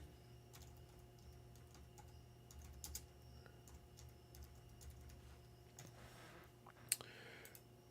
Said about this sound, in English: So while I'm typing this out